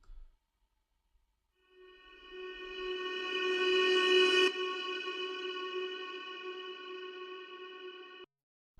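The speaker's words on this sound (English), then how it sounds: "I really liked the Psychotrain reverse sample, which sounds like this" A reversed atmospheric sample called Psychotrain swells up from silence into a sustained, harmonic drone with a rising whoosh, peaks near the middle, then holds steady before cutting off abruptly, with no voices.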